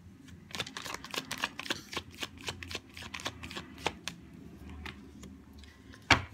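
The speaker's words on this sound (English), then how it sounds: "I've shuffled your card." Tarot cards shuffled by hand in a steady run of close, crisp riffles and flutters, with a sharp snap near the end and no talking.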